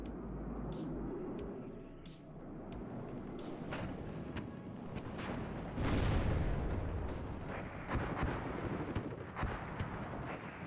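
Rumbling blasts and crackling impacts fill a war video game battle as an Su-25 fires off missiles, with repeated booms, louder swells midway and near the end, and no clear speech.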